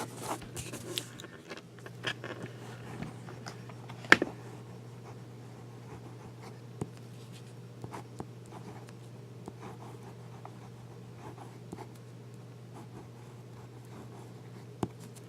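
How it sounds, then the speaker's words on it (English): A Jinhao #5 fountain pen nib scratches softly across paper in short strokes and taps, faint and close over a steady low hum. "let's do a little writing sample"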